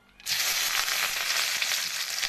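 Onion, garlic and green chilli hit hot oil in a pan with a sudden start, then a loud, steady, close hiss of frying continues without pause.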